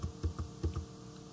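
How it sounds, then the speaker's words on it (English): Several computer keyboard key presses, the down arrow tapped repeatedly while nudging text in CorelDraw, with about five quick, close clicks in an uneven rhythm over a faint background hum. "So we're just going to take the down arrow on your keyboard"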